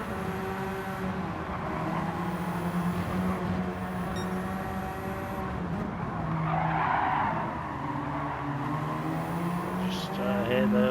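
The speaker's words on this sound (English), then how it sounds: "Just hear those tyres protesting." Race car tyres squeal and skid under load in a racing video game, a steady sustained screech with engine drone that runs beneath continuous race commentary.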